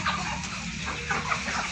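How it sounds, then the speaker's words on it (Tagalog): Chickens in a small farmhouse poultry pen cluck in soft, scattered bursts against steady background noise, with no talking. "Ito, may mga manok."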